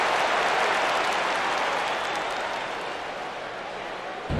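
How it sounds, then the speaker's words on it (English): Video-game arena crowd in UFC Undisputed roaring and applauding throughout a championship fight, a dense, loud and steady wash of cheering that eases slightly near the end, with no clear speech. "Ah, the crowd reacting."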